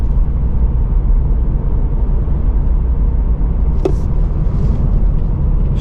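A 2024 Toyota GR86 Premium sports car on Sport 4S tires rounding a left turn, a steady low engine and road rumble from inside the cabin with a brief faint tick partway through.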